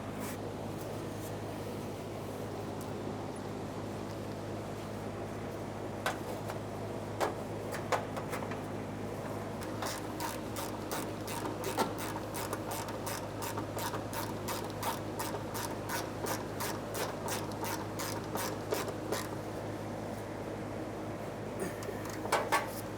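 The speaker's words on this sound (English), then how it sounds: "We'll be using our 12mm on that mounting bolt." A ratchet wrench with a 12mm socket turns a mounting bolt on a 1994-1997 Honda Accord while refitting the fuel tank straps, giving quiet runs of rapid, evenly spaced clicks in bursts over a low steady background.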